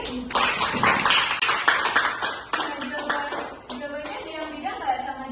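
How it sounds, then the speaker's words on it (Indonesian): A classroom claps for a student, brisk close applause from many hands thinning out after a few seconds, with children's voices and chatter rising as it fades. "Kita beri tepuk tangan untuk Mbak Titis."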